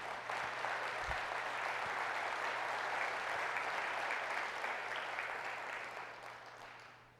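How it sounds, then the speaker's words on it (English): An audience claps steadily at a talk on language preservation, a dense even wash of applause that holds, then fades toward the end. "You can clap if you want to."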